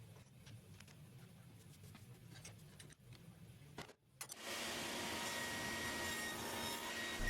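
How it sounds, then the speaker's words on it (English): A dado stack spinning in a sliding panel saw cuts a tenon on sapele, starting as a low background hum, dropping briefly, then rising to a loud, steady broadband roar of blade and wood for the second half. "While this dado stack doesn't leave a perfectly flat tenon face, it's very clean and good enough for me."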